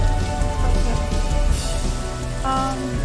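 Heavy rain pounds a surface continuously, a loud, dense wash of drops with faint rumbling underneath and no pauses, steady from start to finish.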